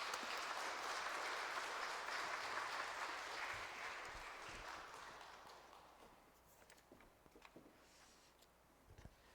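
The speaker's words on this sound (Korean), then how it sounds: "나오실 때 우리 박수로 함께 뜨겁게 좀 환영했으면 좋겠습니다" A church audience claps to welcome a missionary to the front, a broad wash of applause that gradually thins and fades away, leaving scattered claps and small room noises near the end.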